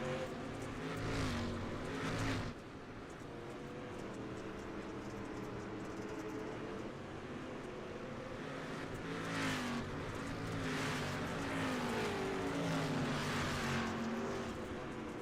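Race car engines in the iRacing video game, with twelve cars on the track: a steady droning engine roar that rises and falls in pitch as the cars accelerate and shift, loud throughout.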